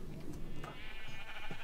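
Sheep bleating in the video game Minecraft, a couple of short nasal bleats rising out of a steady background hum, fairly close and alone without talk.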